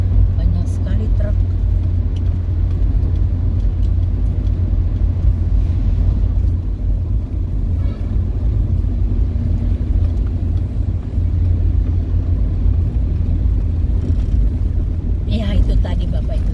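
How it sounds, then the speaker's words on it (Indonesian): Heavy trucks rumble steadily through a town, a continuous low engine drone with traffic passing close by and no speech over it. "entahlah kenapa ini truk sekarang masuk dalam kota, banyak sekali truk."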